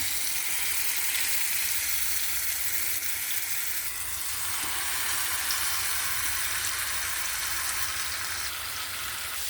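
Peri peri chicken (alfaham) frying in oil in a pan, giving a steady, loud, continuous sizzle with crackling throughout and no pauses.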